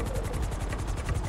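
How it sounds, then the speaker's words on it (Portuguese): Helicopter in the video game GTA 5, its rotor chopping in a fast, even pulse over a low engine drone, loud and close with no talk over it. "O problema é que não é eu, não. Não. É o helicóptero."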